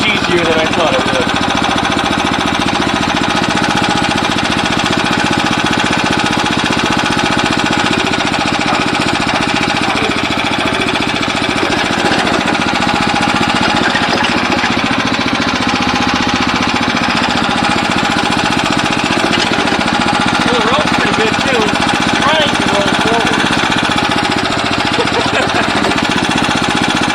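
The engine of a VW bus go kart running just after its first start, a loud, steady, rough and rattly idle that continues close by for the whole stretch, with a voice talking over it.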